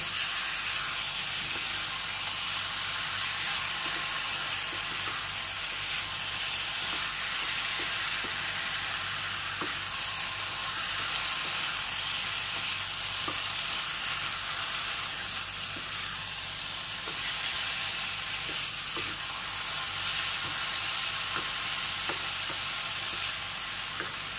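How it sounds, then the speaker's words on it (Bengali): Onion and green chillies fry steadily in a pan for dal, a constant broad hiss with light scraping of stirring now and then, close and even throughout with no talk. "আর দিয়ে দেবো কতগুলো কাঁচা লঙ্কা, সব একসঙ্গে নাড়িয়ে নেব।"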